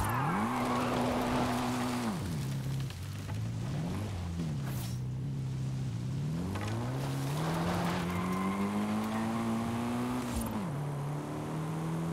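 Mitsubishi Eclipse drifting in the racing game Forza Horizon 5: a steady engine drone rises and falls through gear changes, with sustained tire squeal through slides, loud and continuous with no talk.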